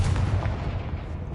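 A Confringo blasting curse in a Hogwarts video game erupts as a heavy, close explosive boom with a rumbling low end, filling the short moment.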